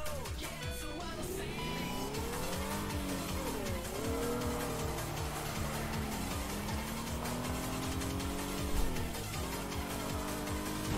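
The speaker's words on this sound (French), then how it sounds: "Ici ça drift très très fort." Car drifting in the game Teardown, a steady engine roar with wavering pitch and sustained tire squeal running continuously and loud, with no talk over it.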